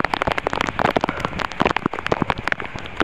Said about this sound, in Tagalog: Oh, grabe na mga kakarots ang ulan.